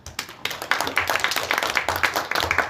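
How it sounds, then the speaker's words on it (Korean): A church congregation applauds for the military chaplains: dense, steady clapping from many hands for about three seconds, fairly close and filling the room. "우리 군종들 위해서 박수 한번 합시다"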